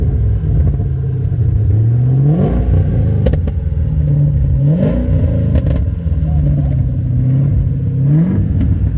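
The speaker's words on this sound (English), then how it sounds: "If you start it up and rev it" A car engine revs repeatedly in rising and falling surges over a loud, continuous idle rumble, close by at an outdoor gathering of Longbridge-built cars.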